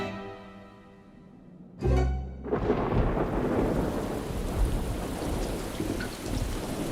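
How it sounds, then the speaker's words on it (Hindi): A loud crack of thunder breaks out, followed by steady heavy rain pouring down with a low rumble underneath. "अरे नहीं, यहाँ तो बारिश शुरू हो गई।"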